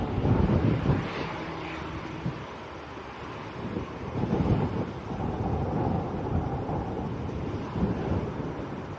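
An EasyJet airliner from Belfast arrives at Leeds Bradford Airport in strong wind, its deep rumbling roar mixed with heavy gusts buffeting the microphone, swelling and easing throughout.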